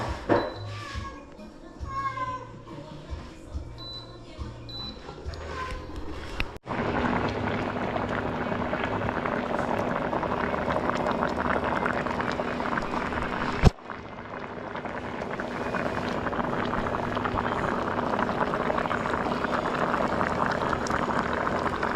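Fish cooking in a boiling pot, a steady loud bubbling and hissing roil that starts abruptly and continues, preceded by a few seconds of quieter sounds with a cat meowing.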